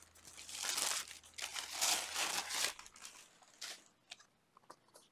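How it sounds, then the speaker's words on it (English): Tissue paper from a monthly Leither Co. subscription box crinkles and rustles in bursts as it is pulled out of the way, loud and close at first, then tapering into a few scattered crackles. "Go ahead and take that tissue paper out of the way."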